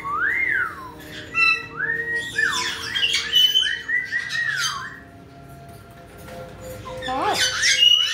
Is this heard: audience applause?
no